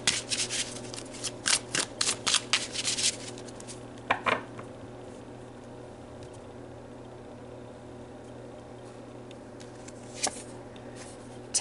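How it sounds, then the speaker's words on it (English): Oracle cards shuffled and drawn from a soul journey deck: a burst of crisp riffling and snapping card sounds in the first few seconds, a couple of isolated taps later, then quiet room hiss. "let's pull a soul journey card"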